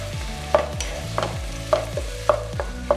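Onions, fenugreek leaves, curry leaves and ginger garlic paste fry in oil for a mutton curry, with rhythmic spoon scrapes about every half second over a soft sizzle.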